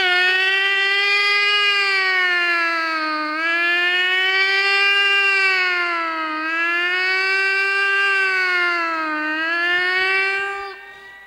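Police car siren leading a district official's convoy down a road, a loud, steady wailing tone that rises and falls in slow repeated sweeps, close by and heard alone.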